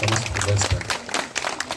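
A crowd at a village Chauthi festival gives a short burst of applause, with dense clapping mixed with nearby talk.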